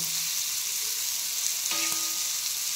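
Green chilies roast in a hot pan with a steady, loud sizzling hiss that stays even throughout, with a faint scrape of stirring partway through and no voices.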